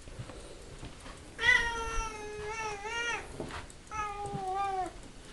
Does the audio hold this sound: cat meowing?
yes